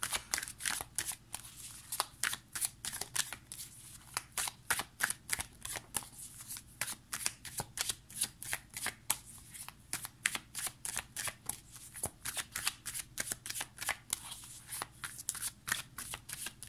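Oracle advice cards being shuffled by hand, a long run of quick, crisp riffling flutters repeating in a steady rhythm, close and clear with no talking.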